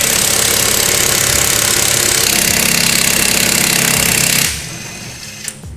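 An impact wrench hammers an old lug nut, fitted with a washer, onto a wheel stud of a Nissan 240SX: a loud, continuous rattling burst lasting several seconds, then it stops abruptly, leaving a faint click.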